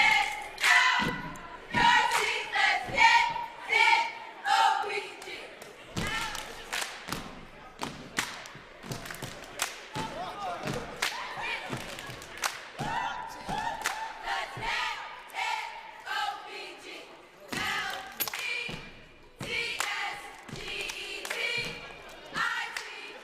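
Cheerleaders at a high school boys basketball game chant in loud rhythmic bursts, mixed with sharp claps, stomps and thuds, while a crowd echoes around them in a gym.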